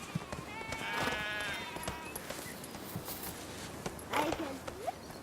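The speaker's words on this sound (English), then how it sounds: "It's a man on a white horse." A rider on a white horse approaches outdoors, with steady clip-clop hoofbeats at a moderate distance, mixed with ambient noise and a brief voice.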